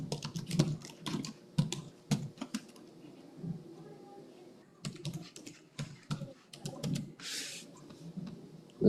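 Typing on a computer keyboard during accounting software data entry, bursts of close, crisp key clicks separated by short pauses, with a few brief spoken words in between.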